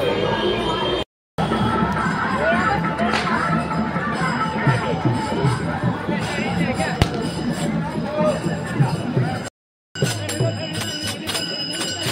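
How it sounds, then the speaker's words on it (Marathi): A dense crowd of pilgrims mills about at Alandi on Kartiki Ekadashi, a steady outdoor hubbub of voices and movement with occasional bell-like rings, briefly cut twice. "गाईज गर्दी बघा."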